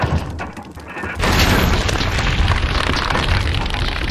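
A flash grenade detonates in Resident Evil HD Remaster, a sudden loud boom after a quieter second, followed by a sustained roaring blast wash that fills the rest of the moment.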